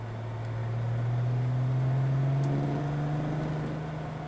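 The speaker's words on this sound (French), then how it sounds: "À 3000 tours, Hein, ça rentre en résonance à 3000 tours." A car engine resonating at 3000 rpm, heard as a steady droning hum that slowly rises in pitch and swells, fairly faint, with no talk.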